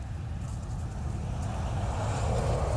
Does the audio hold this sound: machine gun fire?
no